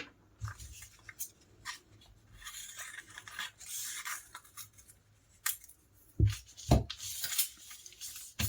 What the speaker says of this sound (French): Je coupe maintenant cet excédent.